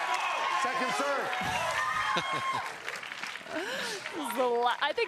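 Crowd at a pickleball doubles championship match clapping and cheering in a burst, with commentators talking over it.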